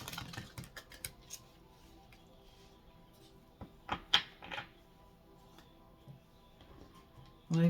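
Oracle cards are shuffled in several quick bursts of soft, close flicking and riffling, separated by quiet pauses, with no voices.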